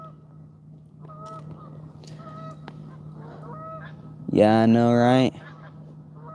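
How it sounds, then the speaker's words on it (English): A loud burst of goose honking erupts near the end, lasting about a second, after a quiet stretch with a brief spoken remark and faint background calls. "These geese are out here making a lot of noise."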